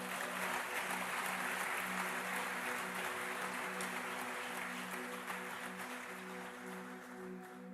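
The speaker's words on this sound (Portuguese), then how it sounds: "Aplaude aí se você atrai isso para a sua vida." An audience claps through a church-style business and prosperity talk, a steady dense wash of applause that stays loud and even before thinning slightly toward the end, with no speech over it.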